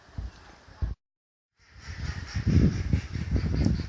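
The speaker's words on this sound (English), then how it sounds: "And the ducks are going as well." Ducks calling in a riverside park at Stratford-upon-Avon, with swans and canoeists nearby: a few honking, quacking calls at first, a brief silent gap, then a denser run of outdoor calls and rustle at moderate volume.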